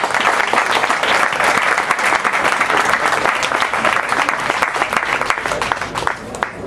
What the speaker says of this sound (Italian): che è un applauso